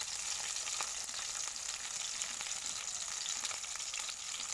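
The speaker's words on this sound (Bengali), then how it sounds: "কাতলা মাছটা একটু কড়া করে ভেজে নিই আমি" Katla fish frying until crisp in a pan of hot oil, a steady dense sizzle with crackling pops running throughout, close and loud, with no voices.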